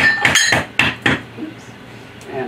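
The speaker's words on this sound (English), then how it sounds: "I like having something where it's flat that I can hammer it on" Hammer giving light taps to a bolt resting on a flat surface while building a system: three or four sharp, close metallic knocks in the first second and a half, followed by quieter handling.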